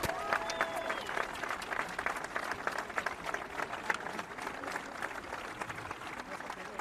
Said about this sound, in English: I'd like you to give them all a big round of applause